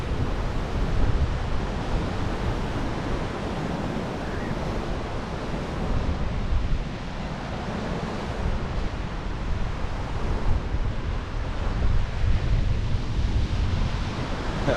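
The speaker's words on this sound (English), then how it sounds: "Good shore break." Surf breaking on the shore at Uvongo Beach on the South Coast, a continuous dense roar of waves mixed with wind buffeting the microphone, loud and steady throughout.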